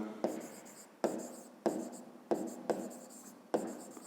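Handwriting on paper while noting the angles of a triangle in a fifth-grade maths exercise, six crisp scratchy strokes at an uneven pace, each starting with a light tap and trailing off, close and fairly quiet.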